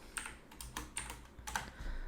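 Someone types on a computer keyboard while writing JavaScript loop code, with irregular bursts of close, crisp key clicks separated by short pauses.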